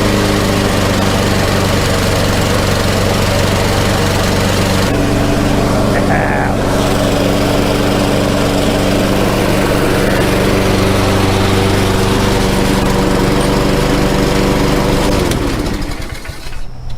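A small gasoline engine with a freshly reassembled carburetor and no air filter runs loud and steady at close range, its even drone holding for a long stretch before cutting out near the end.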